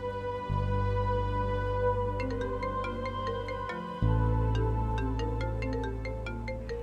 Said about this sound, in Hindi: उठा लो बेटा फोन।